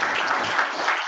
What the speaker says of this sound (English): We welcome you, sir, with a round of applause from the attendees.